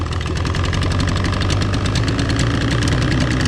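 A boat's outboard motor runs loud and steady, idling high with the choke pushed in, with a rapid rhythmic knocking throb and a rough mechanical rattle throughout.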